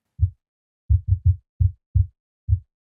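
A synthesized breakbeat kick pattern played with oscillator phase reset, seven short, deep, punchy thumps in an uneven broken rhythm, each hit identical in tone, clean and alone.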